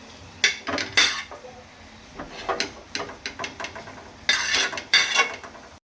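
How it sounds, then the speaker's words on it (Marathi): Metal spoon scraping and clanking against a kadhai as cooked masala is transferred onto a plate, in bursts of sharp scrapes and taps separated by short pauses, close and fairly loud. "तर आत्ता मसाला आहे तो मी प्लेटमध्ये काढून घेते"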